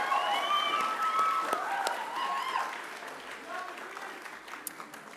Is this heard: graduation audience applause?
yes